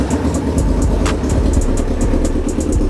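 A rebuilt Suzuki Hayabusa 1300 motorcycle, left sitting for over ten years, idles loud and close with a steady engine rumble and rhythmic exhaust pulses throughout.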